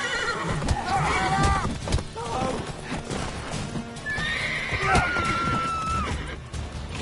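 In The Witcher 3: Wild Hunt, a horse neighs in long shrill whinnies over clopping hooves amid a busy, loud game scene with shouting voices and crashing noise.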